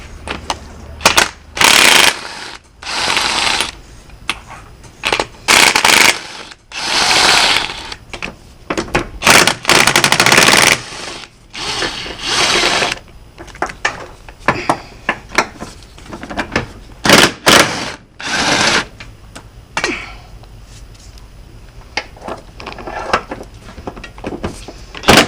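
Mechanical work removing engine mount bolts on a 2008-2014 Toyota Corolla during an engine replacement: close, loud bursts of metallic clanking and tool rattling in uneven clusters, separated by short quieter gaps, with no talking.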